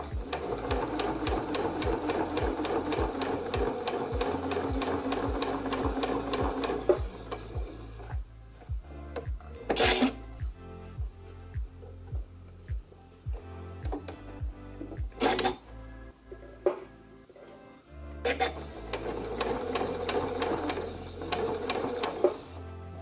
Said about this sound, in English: I just sew a little bit, then I turn a bit more in front of my presser foot, and then I sew a bit more.